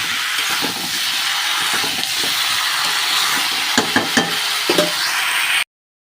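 Steady loud sizzle and hiss of spices being sautéed and stirred in a hot pan for a fish curry, with a few clattering scrapes of the spoon near the end before it cuts off abruptly.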